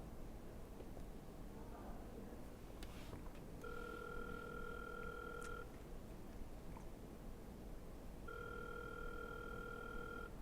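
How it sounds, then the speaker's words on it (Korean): A customer placing a phone call to a call center, with two separate bursts of a steady electronic ringback tone, each lasting about two seconds, under faint background noise. "지금 고객이 전화를 하고 있습니다"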